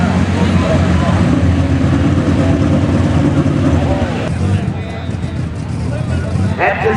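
An unlimited super stock pulling tractor engine roars loud and steady at a tractor pull in Wilmington, Ohio, a dense continuous drone with crowd noise mixed in and a slight drop in intensity near the end.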